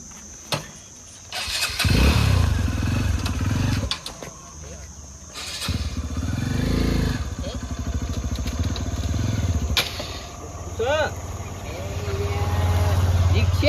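A motorbike engine in a village setting rumbles and revs in several loud bursts, rising and falling over roughly fourteen seconds, with people talking over it.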